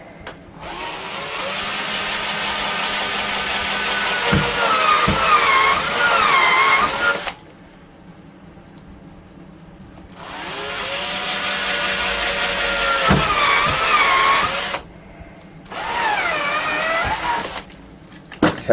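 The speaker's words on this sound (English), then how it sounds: "So we'll get this drilled while we're here as well." Power drill boring a hole through a plastic panel on an S4000 mixing console, with two long whining runs of several seconds each and a shorter third burst, loud and close, no talking.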